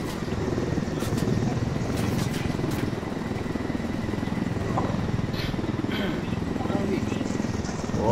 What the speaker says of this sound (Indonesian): Naik ke helikopter dah.